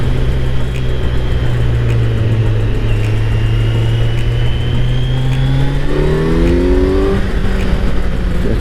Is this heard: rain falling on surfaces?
no